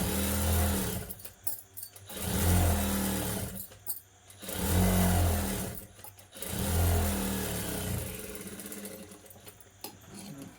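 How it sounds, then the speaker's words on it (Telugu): A sewing machine stitches a seam on fabric in short repeated bursts, each a steady mechanical whirring run of a second or two separated by brief pauses, fairly close and clear with no talk. "ఇప్పుడు మీది వైపున కూడా ఒక కుట్ట అనేది కుట్టుకోవాలండి"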